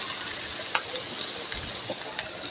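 Curry leaves scattered over a biryani fry sizzle steadily in hot oil, a continuous crackling hiss with small pops, close and alone.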